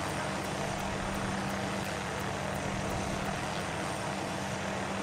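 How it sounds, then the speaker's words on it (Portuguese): Helicopters flying in Arma III give a constant, loud rotor and engine drone with a faint rhythmic blade chop, steady throughout and unaccompanied by talk. "Cuida com aqueles dois helicópteros lá, que eles também estão bem sinistros."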